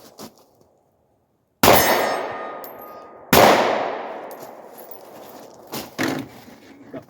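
Two loud pistol shots from a Glock G43 with a Holosun 507K ACSS Vulcan sight, each ringing a steel target 65 yards away with a sharp clang and a long fading metallic ring, followed by fainter handling clatter.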